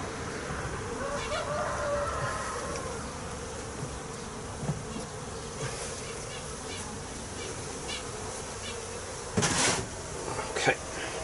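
Honeybees hum at an open hive during a swarm inspection, a continuous low drone with scattered closer buzzes and a few brief handling knocks, faint and steady with no talking.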